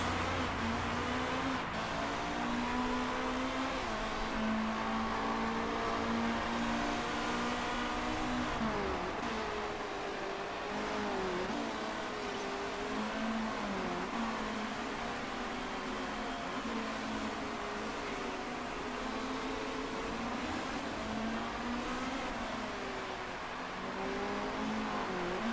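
Race cars driving in the racing management video game Motorsport Manager, a continuous faint whine of engines rising and falling as cars pass, steady throughout with no breaks.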